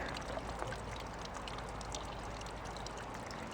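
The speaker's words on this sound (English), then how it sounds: "And as it drips, it pours through these rocks" Small garden water feature trickling and pouring over rocks in a front yard, a steady, close, continuous splashing flow with no voices.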